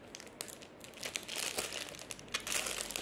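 A ribbon handled close up, with soft, irregular crinkling and rustling that comes in uneven bursts and keeps on quietly, with no voices.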